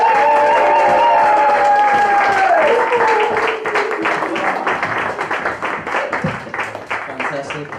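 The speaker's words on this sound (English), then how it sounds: "you start clapping your hands and stamping your feet for your first act of the night" Comedy club audience clapping and cheering for the opening act, a dense sustained roar of applause with stamping, loud and close, while a voice speaks over the start.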